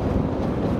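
Strong wind roars against the microphone during a motorcycle ride on a gravel road, a dense, loud, continuous low rumble with no voices.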